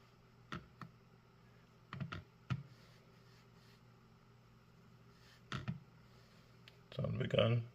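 Keys on a computer keyboard are tapped and clicked in a few short, sharp bursts with quiet gaps between them, and a denser flurry of keystrokes comes at the end.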